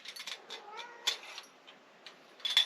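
A Siamese cat yowls and meows in several short, raspy calls, faint and somewhat distant, with quiet gaps between them.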